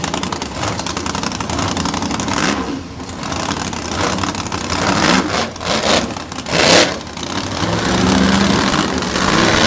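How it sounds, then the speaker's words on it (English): Monster truck engines revving at the starting line of a finals event at Lake Erie Speedway, loud rough roaring that swells and dips over a few seconds amid crowd noise. "The Monster Truck version of Trash Talk right there, revving the engines a little bit."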